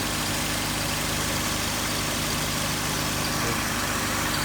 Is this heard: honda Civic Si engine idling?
yes